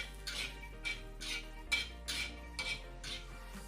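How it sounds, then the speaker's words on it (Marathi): Garlic cloves are dry-roasted in a pan, with a utensil tossing and scraping them in short, spaced bursts of rattling clinks against the metal. A low steady hum runs underneath and no one speaks. "लसणच्या पाकळ्या पण थोड्याशा भाजून घ्यायच्या आहेत"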